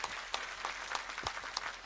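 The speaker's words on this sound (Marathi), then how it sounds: "पुन्हा एकदा आपण सर्वांनी टाळ्या वाजून त्यांचं मनापासून या ठिकाणी" Brief, scattered hand claps from a crowd at a public political rally in Indapur, fairly soft and uneven, lasting only a couple of seconds.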